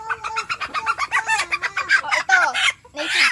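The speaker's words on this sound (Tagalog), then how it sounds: "Native Chickens!" Native Basilan chickens cluck and coo close by, a dense run of short repeated calls with a few longer drawn-out notes, loud and with no talk over them.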